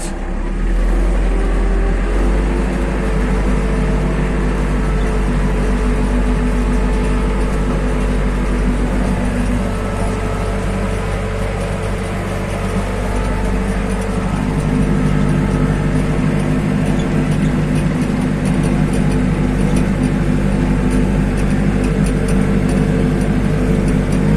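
An Iseki Japanese mini tractor drives a 1.7 m rotary tiller at about 750 rpm, a steady loud engine drone with a low rumbling hum that holds nearly constant throughout, close up and without speech.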